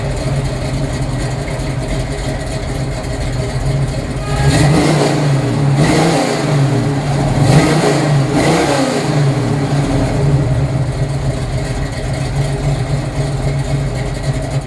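A convertible's engine idles steadily, then revs up loudly and pulls away, the engine note rising and falling through several bursts before settling back to a steady running drone.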